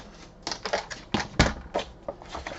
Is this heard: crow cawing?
no